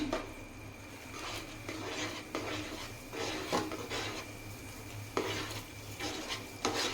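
A spoon scrapes and stirs flour being added little by little in a pan on a gas stove over low flame, with repeated close rhythmic scraping strokes over a low steady hum.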